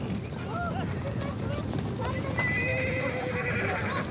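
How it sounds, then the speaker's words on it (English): Horses neigh and whinny over a steady clip-clop of hooves as they are broken in during a short summer, the calls loud and near, with a murmur of voices underneath. "for breaking in the horses"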